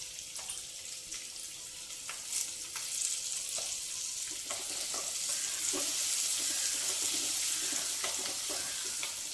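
Chopped onion, green chillies and curry leaves fry in oil in a pan, giving a continuous soft hiss and sizzle with occasional stirring scrapes, fairly quiet and close.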